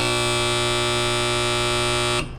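A fuel tank overfill annunciator at a gas station sounds a loud, steady electronic buzz that holds constant before cutting off abruptly at the end.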